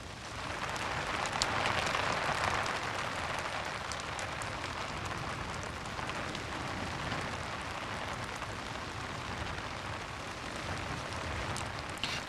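Steady rain patters on surfaces all around, a soft continuous hiss with scattered louder drops and no voices.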